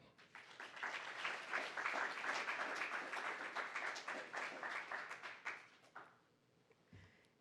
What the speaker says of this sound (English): please greet her with a warm round of applause